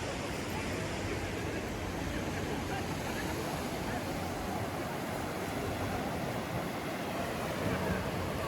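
A steady, broad rush of flowing water where the Alaknanda and Bhagirathi rivers meet at Devprayag, filling the whole stretch, constant and loud with no pauses.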